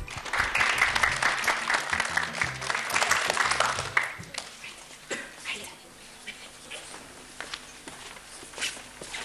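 An audience claps at a school performance, a dense burst of applause for about four seconds that then fades into scattered footsteps, shuffling and murmuring voices.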